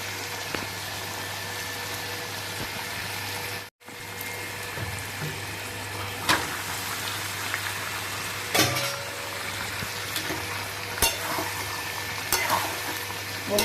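Lote (Bombay duck) fish, coated in turmeric and salt, fries in oily spice masala with a steady close sizzle, broken by a brief drop-out and occasional stirring scrapes and knocks.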